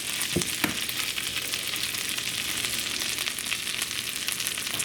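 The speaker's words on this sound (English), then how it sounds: "had a little bit of sausage grease left, so butter's melting in with that sausage" Butter melting into leftover sausage grease in a frying pan gives a dense, continuous close-up sizzle and crackle, with a couple of soft knocks early on.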